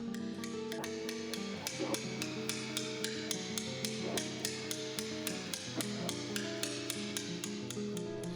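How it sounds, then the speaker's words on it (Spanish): A chisel struck by a hammer cuts stone during hand stone carving, giving a steady series of sharp, ringing metallic taps, close and evenly paced, with no talk. "El cincel a cada golpe se levanta y avanza buscando siempre la salida del material."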